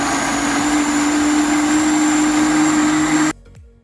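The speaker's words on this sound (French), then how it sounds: "passer tous les légumes au mixeur" A kitchen blender runs steadily at full speed, puréeing washed, chopped vegetables and seeded peppers for a smoked oxtail soup, with a loud continuous motor whine that cuts off abruptly near the end.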